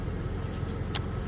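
A Farmall H tractor engine cranks over steadily under the starter, a dense, even low churning held at close range with one brief sharp tick partway through.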